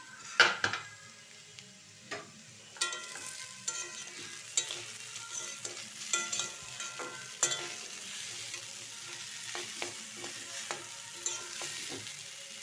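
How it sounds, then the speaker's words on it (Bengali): Steady sizzling of potatoes frying in a pan, broken by repeated scraping and clinking as a utensil stirs, with no voices. "এদিকে আমার আলু ভাজাটা কতটা হলো দেখি।"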